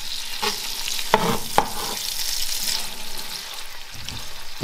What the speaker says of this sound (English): now I've added the salmon and I'm going to cook and toss it around a little bit